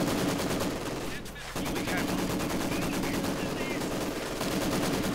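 German MG42 machine gun bursts in Company of Heroes 2, a rapid, dense rattle of fire running almost without a break through the battle din, with distant gunfire and explosions mixed in.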